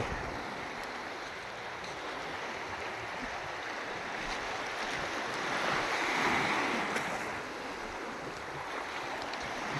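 Continuous wash of surf rolling onto a shore, with a gentle swell in loudness midway and light wind noise.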